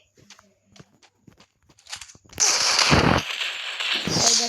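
In a shooting video game, a Desert Eagle pistol fires a headshot: soft footstep clicks come first, then a sudden loud blast that rings on for nearly two seconds.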